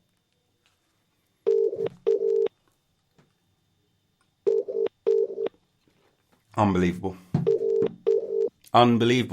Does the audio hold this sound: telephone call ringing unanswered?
yes